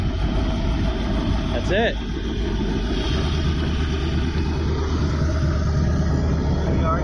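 Engine of a jet boat fitted with an LS V8 swap running at a steady idle, a loud continuous low rumble throughout, with someone briefly speaking over it.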